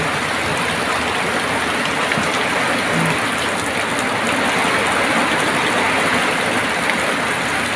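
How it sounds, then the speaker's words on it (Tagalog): A constant, loud downpour of heavy rain, a thick hiss of water drumming on surfaces without pause. "Grabe, lakas ng ulan guys."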